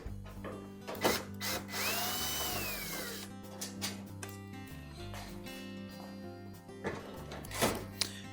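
A power drill backs out retaining screws from a General Electric dryer's front panel, with several short whirring bursts, and clanks and handling noises between them, close up and fairly quiet.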